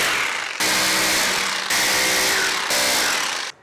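A Hilti hammer drill setting a drop-in anchor into a ceiling runs in three loud bursts with short breaks, giving a harsh, grinding motor whine and rattling hammering.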